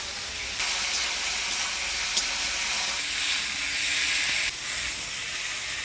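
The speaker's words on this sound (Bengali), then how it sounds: "সূর্য কচুটা ভালো করে কষিয়ে নিলাম মশলা দিয়ে" Taro sizzles steadily in a pan with a ground paste of coriander, cumin, ginger, chilli, turmeric and salt, a loud continuous hiss that flares and steps in intensity as it cooks, with no voices.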